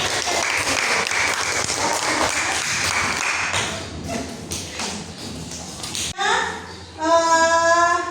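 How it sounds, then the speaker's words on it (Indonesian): Classmates clapping for a student group in a Year 7 classroom, a dense burst of applause for about four seconds that thins into scattered claps and thumps, followed by a brief bright electronic tone. "Silakan kasih tepuk tangan untuk kelompok."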